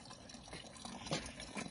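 Weak trickle of water from a cemetery drinking fountain in Salerno, its tap opened fully but giving a poor flow, a soft continuous splash and gurgle with a few brief drips, faint and up close.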